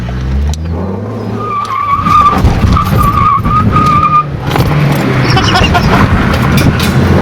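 A car engine revs hard and roars as the vehicle accelerates on a gravel road, with tires scrabbling and skidding on loose ground, loud and close throughout.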